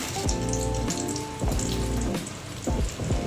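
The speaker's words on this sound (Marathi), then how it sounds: "साजूक तूप टाकून चण्याचं पीठ टाकूया भाजायला" Steady dense sizzle and crackle of gram flour roasting in ghee in a pan for a Maharashtrian laddu, loud and continuous with a few spoon strokes through it.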